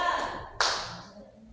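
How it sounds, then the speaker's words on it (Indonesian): A sixth-grade class claps for a student group in a classroom. A short burst of applause rises sharply and fades quickly, with a voice speaking around it. "Beri tepuk tangan untuk kelompok 2."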